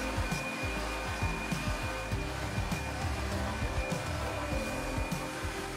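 A CNC machine cuts the profile of a wooden pen case lid with a steady, whining motor hum and a continuous run of rapid, rhythmic cutting pulses underneath, fairly close and moderately quiet, with no one speaking.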